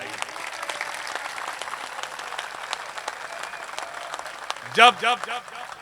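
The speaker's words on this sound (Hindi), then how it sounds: "एक बार इस भाई के लिए जोरदार ताली बजाई।" Loud, continuous clapping from a mushaira audience at a Haldwani poetry gathering, with sharp individual claps scattered through the crowd; near the end a voice briefly rises over the applause.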